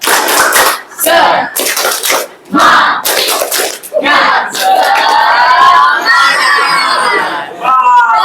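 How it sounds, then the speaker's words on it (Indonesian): Classroom students perform a rhythmic spirit clap chant, with bursts of group clapping in patterned beats broken by short gaps, then loud shouted chanting and cheering from many young voices, close and energetic. "Tepuk semangat."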